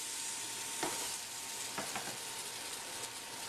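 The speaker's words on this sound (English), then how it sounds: "Now we're just gonna add those tomatoes right to these onions." Tomatoes added to onions frying in a pan for cioppino, a steady, faint sizzle with a few soft stirring knocks, heard alone.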